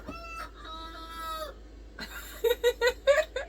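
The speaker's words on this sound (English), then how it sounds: "I love having the chickens around here." Chickens close by cluck and call in a quiet outdoor spot: a drawn-out crowing call first, then a quick run of short, sharp clucks near the end.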